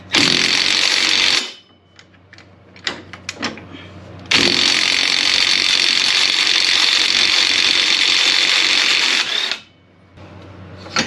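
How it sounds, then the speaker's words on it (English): A loud power impact tool works the axle nut off the hub of a Polaris RZR Pro XP side-by-side, with a sustained buzzing burst, a pause of short clicks and rattles, then a long steady whirring run before stopping. "Now we can remove the axle nut."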